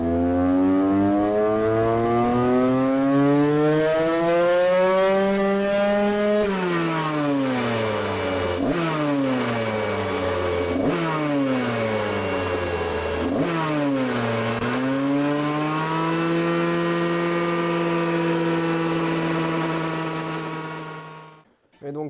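A Husqvarna 125 SMS motorcycle, a 144cc kit, revs loudly with a CRD exhaust. The engine holds a high whine, dips and climbs back in several repeated rev cycles, then settles into a long sustained drone before cutting off abruptly.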